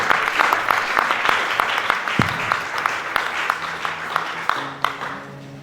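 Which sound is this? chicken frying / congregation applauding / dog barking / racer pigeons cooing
congregation applauding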